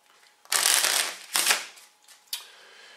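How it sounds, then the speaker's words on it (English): A deck of playing cards is shuffled up close for a card trick, a crisp riffling burst followed by two shorter ruffles, fairly quiet with no talking. "Take out the cards and just give them a quick shuffle."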